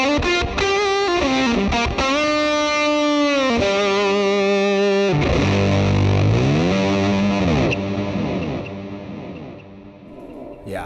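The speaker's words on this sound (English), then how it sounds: "Nice delay, nice reverb, and a big fat fuzz sound." Electric guitar played through a Fender Mustang GT amp with delay, reverb and big fuzz, sustained distorted chords and notes ringing out with echoing tails, loud and continuous throughout.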